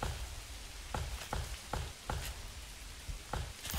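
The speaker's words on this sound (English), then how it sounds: "Starting to get a little bit rainy." Rain falling in the medieval village of the Manor Lords game, a soft hiss with a series of sharp, regular clicking drops pattering nearby and no talking.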